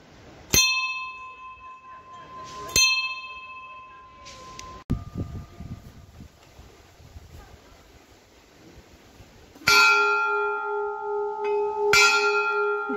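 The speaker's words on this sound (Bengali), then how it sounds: "ঘন্টার আওয়াজ শুনলেই না মনটা বেশ ভালো হয়ে যায় না?" A temple bell rings near Sevokeshwari Kali temple on a hill route toward Pelling, with sharp metallic strikes at intervals and long bright ringing decays, clustered strikes near the end, and a brief voice in the quieter middle.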